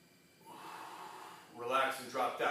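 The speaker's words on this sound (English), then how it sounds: "So I'm going to take a big deep breath" A big deep breath drawn in before a kettlebell stretch, quiet at first and then rising into a sharp, audible gasping inhale near the end.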